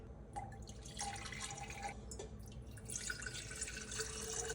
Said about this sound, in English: I'm going to pour it in the measuring cup and then into my glass container.